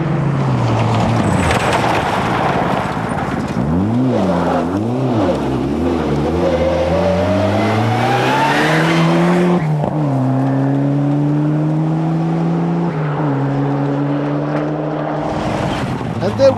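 A Ford Escort Cosworth rally car charges along a stage of the 1997 Kerridge Rally, its engine revving hard and rising through gears, wavering as it slides through bends, with a commentator talking over it.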